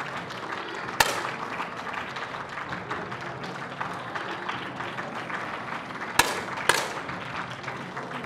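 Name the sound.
audience shouts and applause at shooting World Cup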